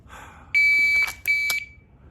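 Two loud electronic beeps from a dry fire practice shot timer: a long tone then a shorter second one, sharp and close, with no talking.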